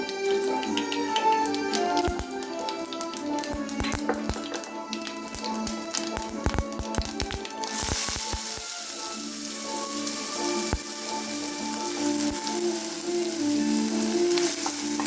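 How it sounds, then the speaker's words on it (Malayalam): Mustard seeds crackle and splutter in hot oil in a pan, with a steady sizzle and scattered sharp pops that grow denser and brighter partway through. "കടുക് പൊട്ടിക്കുക"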